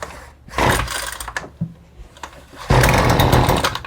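A Husqvarna 130C gas trimmer is pull-started with the choke set. Several sharp rips of the recoil cord bring brief engine sputters, then a louder, rough burst as the small two-stroke engine catches, close up.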